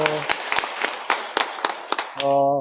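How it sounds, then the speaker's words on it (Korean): A Catholic parish congregation at a community Mass claps in a steady rhythm of about eight sharp hand claps, then a sustained tone rises as the clapping ends. "모두 박수 한번 쳐주세요."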